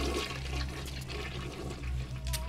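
A toilet flushes in the BioShock video game, a continuous loud rushing swirl of water lasting the whole moment, with no talking.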